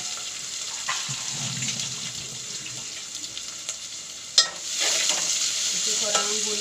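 Chopped onion frying with masala in a pan for upma, a steady close sizzle with occasional spoon stirs and a sharp clink midway, after which the frying grows slightly louder.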